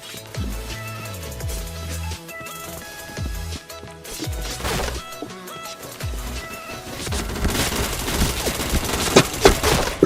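Gunfire in a shooter video game: rapid bursts and crashing shots mixed with other game sounds, building to denser, louder firing near the end.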